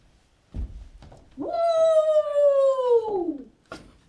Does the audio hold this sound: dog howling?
yes